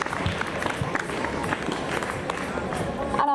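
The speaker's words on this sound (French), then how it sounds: "Une bonne main d'applaudissements pour le costume," Audience applause for a handmade costume at the Fantasticon Montreal convention: dense, steady crowd clapping runs throughout, with voices talking over it.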